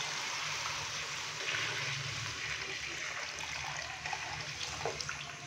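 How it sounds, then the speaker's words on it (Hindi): Steady pouring of yakhni stock into a pot of mutton pulao, a continuous watery splash and trickle running throughout without pause. "तो अभी हम इसके अंदर पानी डालेंगे।"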